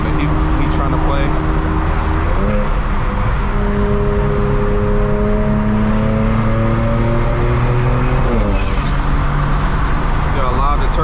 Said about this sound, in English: See how loud the turbos are.